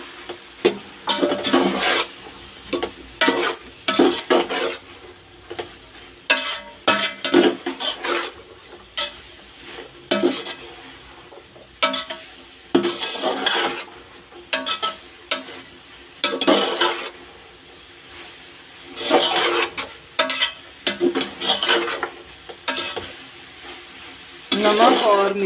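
Chicken fried rice being tossed and stirred in a pan, with repeated scraping and clanking bursts at close range in an irregular rhythm.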